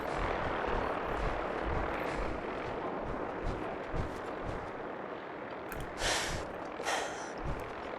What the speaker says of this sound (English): Sounds like a vertibird to me,